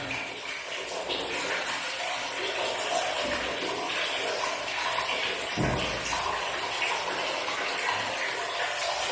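Water gushes continuously from a tap or hose while a dog is bathed for lice removal, a steady rushing splash with soft voices faintly underneath.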